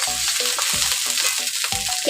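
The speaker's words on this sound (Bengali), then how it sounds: "এখন নেড়ে চেড়ে নেব।" Spice paste of onion, ginger and garlic being stirred as it fries in a pan, rhythmic spatula knocks over a constant sizzle.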